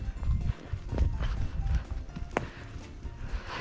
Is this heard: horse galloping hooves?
yes